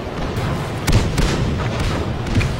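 Tank cannon fire in World of Tanks during a rally race with a Chaffee light tank: low booming shots under a constant rumbling engine drone, one heavier thump near the start followed by softer distant impacts.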